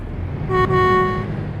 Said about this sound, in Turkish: Kornası da böyle.